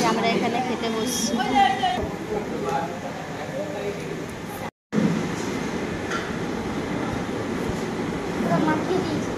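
A train rumbles along an elevated metro line overhead in Howrah, a steady low roar that fills the whole clip beneath people talking nearby, with a brief dropout partway through.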